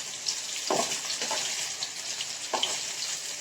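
Chicken pieces for chicken 65 deep-frying in a pan: a steady close hiss of bubbling oil with faint crackles and a few soft stirring knocks, no voices.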